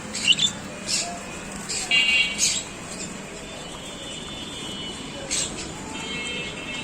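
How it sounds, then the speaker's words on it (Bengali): Birds in a bird shop, including pigeons, give scattered chirps and squawks over a steady background hum, several brief calls spread across the clip. "ওনাদের দেখি কবুতর আছে।"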